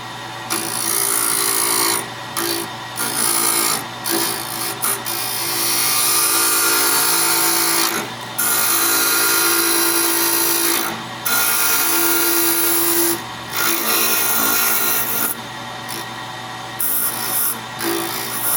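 A power tool steadily sands down the thickness of a wooden ring core clamped on a mandrel, a continuous loud whirring grind with short pauses and shifts in pitch as pressure changes, no voices.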